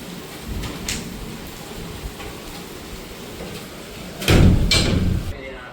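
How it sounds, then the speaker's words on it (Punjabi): Heavy rain pours down outdoors in a steady, dense hiss, with a brief louder surge of downpour or rumble near the end. Voices can be heard faintly beneath the rain. "ਬਾਹਰ ਨਿਕਲ ਕੇ ਦੇਖਿਆ ਤਾਂ ਮੀਂਹ ਬਹੁਤ ਜ਼ਿਆਦਾ ਪੈ ਰਿਹਾ ਸੀ ਦੇਖੋ ਮੀਂਹ"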